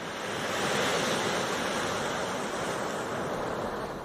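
Surf washes onto a Cornish beach in a loud, continuous broadband roar, with wind buffeting mixed in and no other sounds.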